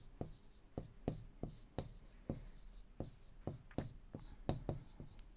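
A marker or chalk writing on a board during a maths lesson, a steady run of quick tapping and scratching strokes close by, with faint room noise and no talk over them.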